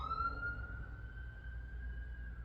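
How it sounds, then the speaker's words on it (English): A passing emergency vehicle siren sounds outside a home on a night of freezing rain: one steady, slightly rising wail held over a low rumble of traffic, fairly loud and continuous throughout. "You guys are going to hear sirens"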